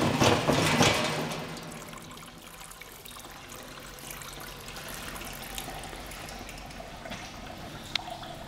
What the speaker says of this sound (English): The light materials are already washing down the tray, and we're leaving behind